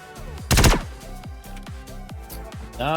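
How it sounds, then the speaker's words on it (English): Rapid bursts of video game gunfire, a loud blast followed by a steady string of sharp shots ringing out at an even rhythm. "Nice shooting."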